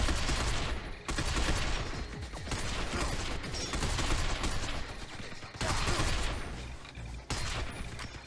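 Sustained, dense gunfire rattles through a firefight in the video game Binary Domain, continuous bursts forming a noisy wall of shots with brief dips, moderately loud and without a clear break.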